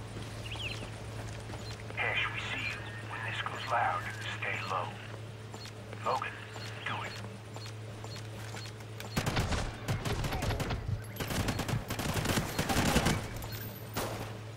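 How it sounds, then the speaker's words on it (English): People talk over a low steady hum, then rapid bursts of gunfire crackle repeatedly near the end, in the video game Call of Duty: Ghosts. "We heard gunfire."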